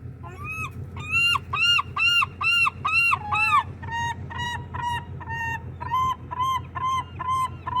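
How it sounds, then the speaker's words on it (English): Seagulls give loud, close calls in quick repeated bursts of sharp, yelping notes. The sequences come one after another with brief gaps between them, over a low steady background hum. "Fatty seagulls are going for it."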